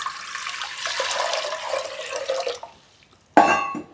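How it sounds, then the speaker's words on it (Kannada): Water gushes into a pressure cooker in a home kitchen, a continuous pour for a couple of seconds, then a pause and a sharp metallic clatter near the end. "ನೀರು ಹಾಕ್ಬೇಕಿದೆ ಕುಕ್ಕರ್ಗೆ"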